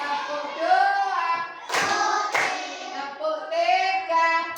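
Students in a classroom clap hands in a counted clapping game, two sharp claps close together, set between a clear voice calling out the count.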